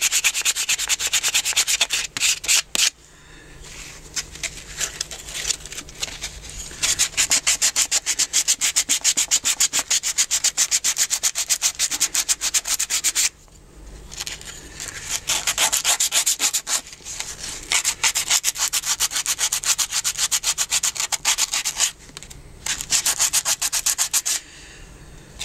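A carved wooden spoon being sanded by hand with sandpaper, giving a close, steady scratchy rubbing in long bursts, broken by a few short pauses and no talk.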